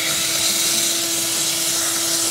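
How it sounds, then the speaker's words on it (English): Vacuum cleaner running steadily with a constant high whine and hiss, close and loud, while cleaning debris from the engine bay of a Toyota Prius. "so I will first go and vacuum it"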